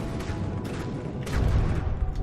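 High-explosive missile shots from a warship in the naval combat game From the Depths, striking a wooden ship: a steady roar of rumbling fire with sharper bursts, swelling into a heavier boom partway through.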